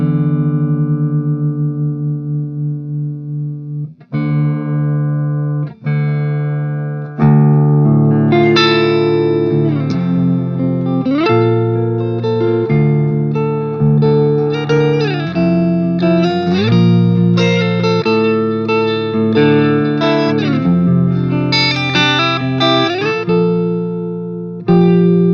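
Gibson Les Paul Custom electric guitar played clean in drop D, with sustained chords ringing over a deep low string, then busier strummed and picked passages with slides, steady and close, alone without talk.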